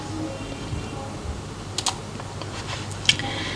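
Faint computer keyboard typing while entering a database name in MS Office 2000, a few quick clustered keystrokes over a soft background hiss.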